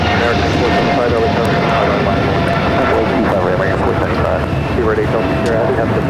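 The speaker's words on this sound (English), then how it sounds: "This is British Airways 282, Speedbird 8 Delta Sierra Heavy, taking off to London Heathrow on the 777-300ER." A British Airways Boeing 777-300ER heavy takes off from LAX bound for London Heathrow. Its engines roar broadly and steadily while voices talk over the noise.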